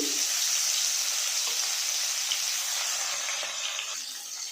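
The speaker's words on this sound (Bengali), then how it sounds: "গরম কড়াতে দিয়ে দিচ্ছি পরিমাণ মতন সর্ষের তেল এরপর গরম তেলের মধ্যে একে একে মাছগুলো দিয়ে দিচ্ছি" Bele fish frying in hot mustard oil in a kadai: a steady, dense sizzle and hiss that holds at a constant level for the whole stretch, fading slightly near the end.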